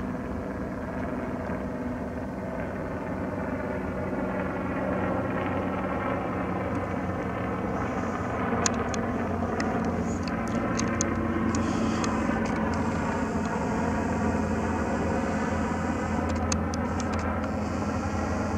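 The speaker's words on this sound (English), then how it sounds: "Sounds like a helicopter." A continuous droning helicopter engine hums steadily from a distance, unchanging for the whole stretch with no voices.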